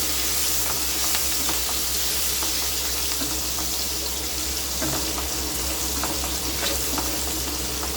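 Ginger-chili and garlic-chili paste frying on low heat for dhokli nu shak, a continuous close sizzle with light stirring scrapes throughout, no voices.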